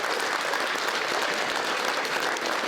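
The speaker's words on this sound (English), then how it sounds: "Could we please clap and applause for Graham Patterson's effort tonight?" Sustained applause from an audience at an induction ceremony, dense steady clapping throughout at an even, fairly close level with no voices rising above it.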